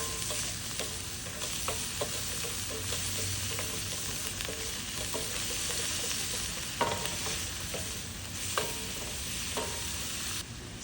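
Garlic, onion and scallion fry in coconut oil in a pan, giving a steady close sizzle with occasional stirring scrapes and clicks.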